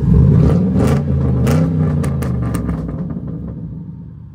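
A straight-piped Mercury Grand Marquis engine revs up loudly and close, a deep rumbling burst that holds for a couple of seconds and then settles back toward idle.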